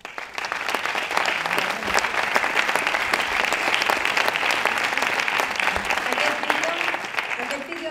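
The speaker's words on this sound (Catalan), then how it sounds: "moltes gràcies i aquest aplaudiment, sisplau" Sustained applause fills the room as an audience claps at a campaign presentation, loud and even for several seconds with a faint murmur of the crowd beneath.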